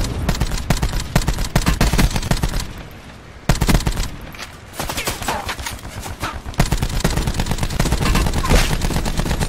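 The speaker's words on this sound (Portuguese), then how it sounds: "Fred, usa a metralhadora, Fred." Sustained automatic machine gun fire in the battle royale video game Blackout on PS4, loud and nearly continuous bursts with a short lull midway, dense gunshots crackling throughout.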